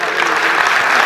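An audience claps at an award ceremony honouring martyrs' families in Noida, a brief, dense burst of steady applause from a crowd at close range.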